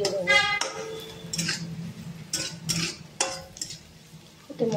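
Mashed lentils for Rajasthani dal tadka are tipped into a pan of onion and spices over low gas, with clinks and scrapes of a metal spoon against the pan while someone speaks throughout.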